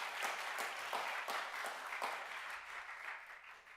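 Audience applause during a Friday youth worship service at a church, a warm burst of many clapping hands that holds steady and then gradually tapers off toward the end.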